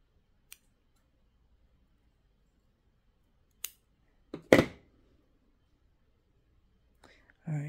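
Scissors snip through material for a mini doll, a few sharp, close cuts spaced apart in near silence, followed by a soft voice at the end.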